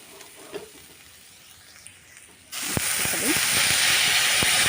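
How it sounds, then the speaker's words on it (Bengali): Spices frying in a pan with chili powder burst into a loud, close hiss and crackling sizzle the moment water is added, following a few seconds of quiet frying. "জল দিচ্ছি আমি এগুলোকে একটু ভেজে নেব"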